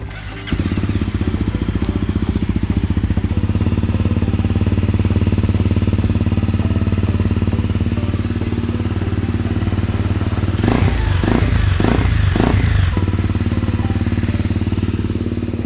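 A 2018 Honda CRF250 Rally motorcycle idles steadily with a low, smooth, fairly quiet exhaust rumble, joined near the end by a few brief revs.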